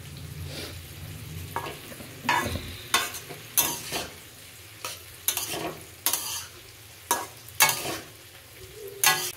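Fried potatoes being stirred with turmeric, coriander and chilli powder for a Bengali cabbage curry, giving a soft sizzle under a steady run of spatula scrapes and clanks against the pan.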